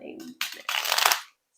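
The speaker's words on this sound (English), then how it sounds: "So now I'm actually going to need to shuffle my discard" A deck of cards from the discard pile of the Castle Panic board game is shuffled up close, giving two brief riffling bursts with a short pause between them, the second longer and louder before stopping.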